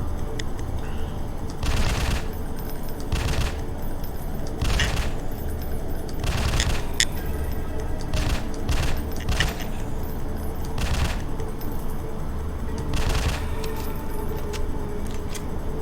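Repeated gunfire in a zombie-shooting video game, bursts of shots spaced every second or two over a steady loud background of game noise and rumble.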